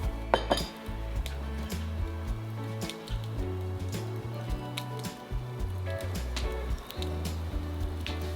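Utensil stirring an eggplant filling with meat, cheese and tomato in a dish, giving repeated clinks and scrapes against the vessel, close and steady, over a continuous low tonal bed of background music.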